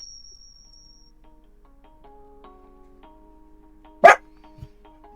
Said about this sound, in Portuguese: Eu não sei de onde vem este cachorro que está latindo aqui.